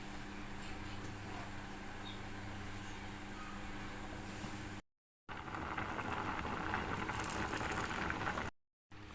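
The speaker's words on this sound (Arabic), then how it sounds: "هنجيب حله فيها ميه بالشكل ده ونحط البطاطس فيها تتسلق" Potatoes boil in a pot of plain water with no vinegar or salt, giving a steady bubbling hiss that is cut by two brief dropouts.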